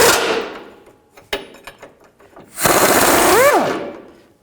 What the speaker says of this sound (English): Loosen this bolt up here.